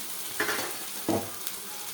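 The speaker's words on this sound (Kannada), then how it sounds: "ಚೆನ್ನಾಗಿ ಹಸಿ ವಾಸನೆ ಹೋಗೋ ತನಕ ಫ್ರೈ ಮಾಡ್ಕೊಂಡು" Spices for thondekai curry sizzle in a pan, with a steady close crackle and two brief spoon scrapes against the metal.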